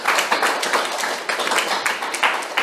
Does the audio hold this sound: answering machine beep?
no